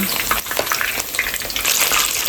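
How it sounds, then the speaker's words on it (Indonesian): Eggplant stuffed with minced meat fries in hot oil, giving a loud, steady crackling sizzle that fills the whole moment without any voices. "kita goreng ya teman-teman ya"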